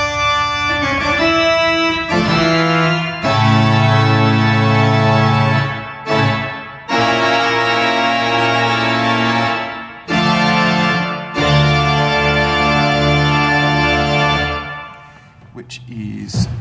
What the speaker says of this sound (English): So full instrument tutti starting with the box closed.